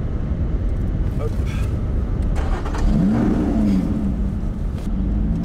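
A Lotus Exige 430 Cup sports car engine cranks, catches and revs with a rising then falling roar, heard close while people talk over it.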